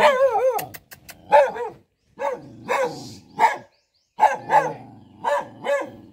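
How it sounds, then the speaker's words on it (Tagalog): A dog barks repeatedly at a rural house in the Philippines, close and loud, in short bursts with a few whining, yelping notes between pauses. "Magalitin yung aso mo."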